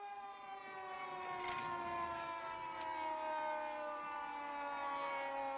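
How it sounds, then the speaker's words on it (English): A steady wailing fire engine siren, approaching, sustains throughout, its layered tones holding fairly even in loudness with no voices over it. "Sirens are getting closer."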